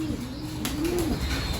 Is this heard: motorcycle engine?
no